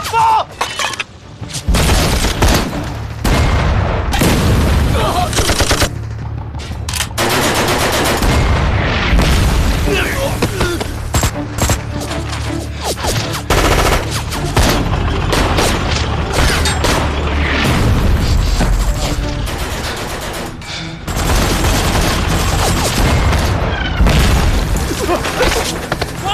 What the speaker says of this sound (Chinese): 掷弹筒！ 瞄准目标，放！